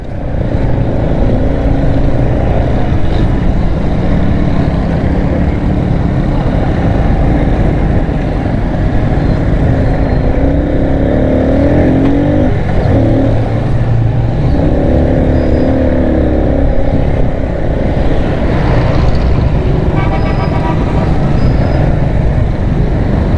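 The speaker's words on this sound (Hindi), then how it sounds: "यहाँ तो ये तो हिल ही नहीं रहा ट्रैफिक" Constant, dense road noise from a stalled traffic jam of cars and motorcycles in Pakistan drones loudly and steadily throughout, with engine rumble and occasional faint horn-like tones mixed in.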